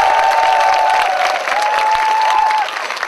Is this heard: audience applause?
yes